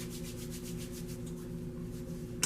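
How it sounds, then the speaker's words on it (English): Hands rub together with hand sanitizer in a dental instrument decontamination area, giving a steady, soft, close friction sound that continues throughout with no talking. "I'm going to sanitize my hands again. Rub again until it's completely dry."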